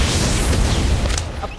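A Confringo blasting curse explodes in a Harry Potter video game, a loud, close, sustained booming blast that fades out after about a second.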